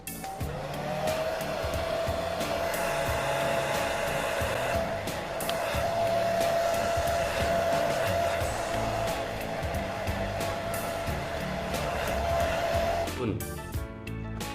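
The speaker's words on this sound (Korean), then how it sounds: "일단 10분 동안 제가 드라이기 할게요" A hair dryer blows loudly and steadily with a constant whine on bleached hair, then switches off near the end.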